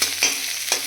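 Capsicum fries in a little oil, a brief steady sizzle with faint stirring clicks, heard close and alone.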